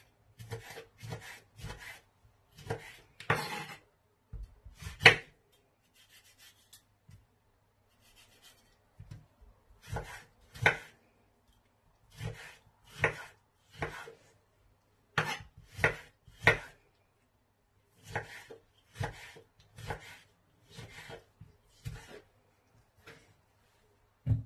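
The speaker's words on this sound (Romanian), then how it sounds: "se taie roșiile în felul acesta în formă de X" Knife cutting X-shaped slits into washed tomatoes on a board, with repeated short, crisp chops in several bursts and brief pauses between them, close and fairly loud, no talking.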